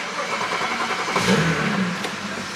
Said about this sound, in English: this is going to be our first time starting the car with the downpipes and this fix